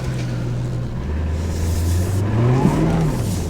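An abandoned Ford AU XR8 Falcon V8 engine idles with a steady low rumble, then revs up in a rising whine toward the end, close and loud, with no talking.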